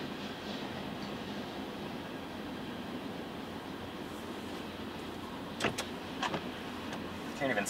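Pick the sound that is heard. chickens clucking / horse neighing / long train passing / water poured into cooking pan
long train passing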